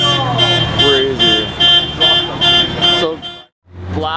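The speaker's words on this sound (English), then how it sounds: "They set off the alarm." A car alarm goes off, set off by passing sports cars including a Porsche 991.1 GT3 RS, a GT3 and a Carrera GT, sounding as loud repeated pulsing tones over heavy engine noise on a street at night, then briefly cutting out.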